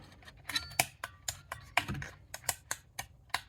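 Mechanical keys on a 1980s home telephone pressed one at a time, giving sharp close clicks in an uneven rhythm, about a dozen presses with no voices.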